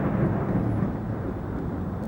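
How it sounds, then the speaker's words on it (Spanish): Thunderstorm sound effect opening an album intro, a steady deep rumble of rain and rolling thunder, loud and continuous with no voices. "Tormenta."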